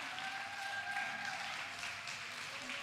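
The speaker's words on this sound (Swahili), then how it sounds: "Tumpigie makofi akisimama." An audience at a Sunday school conference claps together for a teacher who is rising to introduce a topic, a soft, even patter of applause held at a distance for a few seconds.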